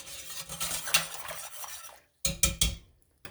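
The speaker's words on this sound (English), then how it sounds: "So we'll just give it a good stir" A metal spoon stirs citric acid dissolving in water in a pot, scraping and clinking against the sides in short uneven strokes, then a pause followed by a few sharper knocks.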